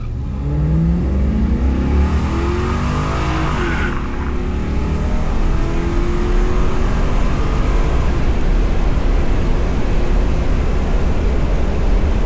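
A tuned car fitted with a drag pack launches down a quarter-mile drag strip, its engine note climbing steadily through the first few seconds before giving way to a loud, continuous roar of wind and road noise.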